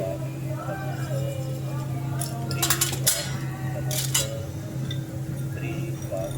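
Mustard seeds dropped into a hot pan give a few bright crackling clinks and pops over a steady frying hiss, close by, with a person talking throughout.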